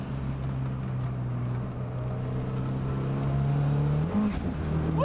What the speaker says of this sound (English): It's definitely a car that doesn't attract a lot of attention with the exhaust noise